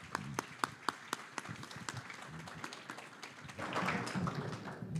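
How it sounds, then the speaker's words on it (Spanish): Applause from the audience at an international conference panel, a few scattered sharp claps at first that swell into a fuller wash of clapping, heard from some distance and moderately quiet. "Un fuerte aplauso."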